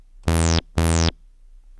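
Two identical loud synth notes from a Sonicware ELZ_1 synthesizer with a delay effect, each a bright buzzy tone with a falling sweep, sounding one after the other and then trailing into a faint echo.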